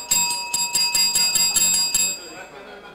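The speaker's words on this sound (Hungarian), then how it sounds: "Most csengő." Bright metallic bell rung rapidly about a dozen times over two seconds, close and loud, then left to ring out and fade.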